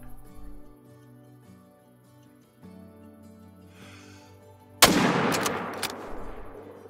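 A single sharp long-range rifle shot in the hunting game Call of the Wild, fired from a rooftop at a warthog, cracks loudly after quiet ambient game sounds and rings out with a trailing echo.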